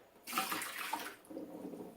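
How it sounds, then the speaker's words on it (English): Water is poured out of an Oster Pro 1200 blender jar in a short splashing gush that starts abruptly, eases briefly, then continues as a lighter trickle, close and fairly quiet. "All right, let me pour that out."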